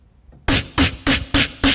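Five crisp, hissy clicks made with the mouth in an even rhythm, imitating a rim shot, loud and close after a faint moment of quiet.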